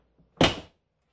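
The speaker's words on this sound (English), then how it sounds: "Oh, front door open." An RV front door swings with a single firm thunk of the latch, short and close, with only a faint tap just before it and no talk.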